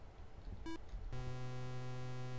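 Electronic beeps from the Atari Vault game Brain Games: a short tonal beep, then a sustained buzzy tone that holds steadily to the end, with no talking.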